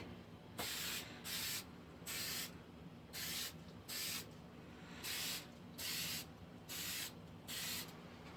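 Plasti Dip coating sprayed from an aerosol can in about twelve short hissing bursts, each lasting roughly half a second with brief pauses between, close and fairly quiet, with no talking.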